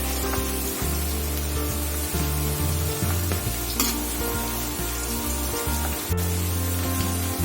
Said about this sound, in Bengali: ভাজা চলছে এখন